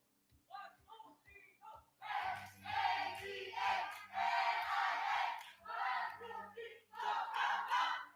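A team at a leadership congress shouts its cheer in unison, several loud bursts of group chanting that start after brief opening claps, rhythmic and close with pauses between phrases.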